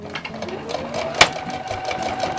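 A sewing machine runs steadily while stitching fabric for an apron, a close, even mechanical whir with one sharp click partway through.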